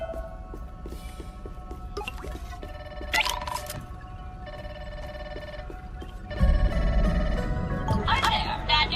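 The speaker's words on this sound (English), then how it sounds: "I hear a telephone ringing?" A telephone rings in the video game Grounded 2, its electronic trill coming in several separate bursts over quiet ambience, with the last ring louder and accompanied by a low rumble.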